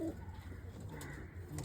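Pigeons cooing in a racing pigeon loft in Mattakalapu, Sri Lanka, soft low murmuring coos running steadily through a brief stretch, fairly faint against the ambient background.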